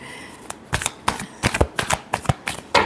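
Tarot cards being shuffled for a final pass during a weekly reading, a rapid run of crisp riffling and snapping bursts, close and loud, with no voice.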